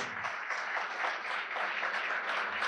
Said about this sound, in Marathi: टाळ्यांचा आवाज थांबला नाही पाहिजे.